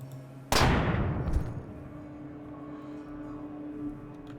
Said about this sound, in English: Now that explosion will draw everyone else to us.